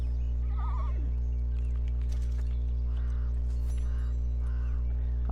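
Horse neighing in a video game, a wavering whinny near the start followed by softer snorts and calls over a constant low background hum and ambient game noise.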